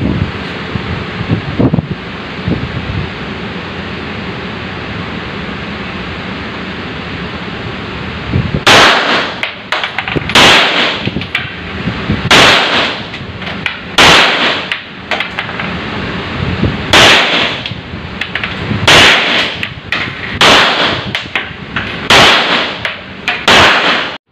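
Gunshots ring out at an outdoor shooting range, a dozen sharp loud reports spaced a second or two apart over steady wind noise, after a quiet stretch.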